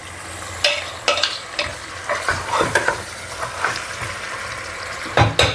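Beef ribs frying and browning in a pan, a close sizzle broken by repeated scraping stirs and clattery utensil strokes at an uneven pace.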